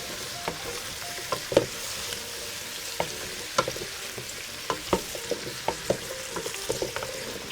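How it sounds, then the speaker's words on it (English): Zucchini added and tossed in a hot pan for green minestrone, a steady sizzle of frying under repeated soft stirring scrapes and taps, close and fairly quiet with no talking. "So I'm adding my zucchini, giving it a good toss."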